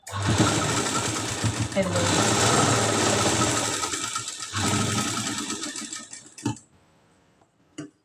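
Sewing machine stitching a katori blouse, running steadily and loudly for about six seconds with a brief pause near the middle, then cutting off into near silence with a couple of small clicks.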